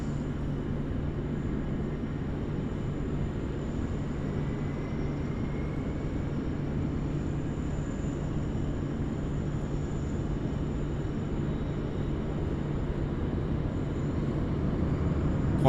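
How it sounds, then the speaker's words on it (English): Qantas Boeing 787-9 from Dallas on approach to land at Sydney Airport, a steady broad low engine roar holding at an even level throughout, distant and unbroken, with no talk. "Qantas 8 coming in from Dallas. It's a 787-9er is next to land here."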